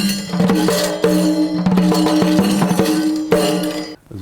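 Several resonant hand-drum strikes, close and ringing, with sharp attacks and sustained low tones decaying between hits.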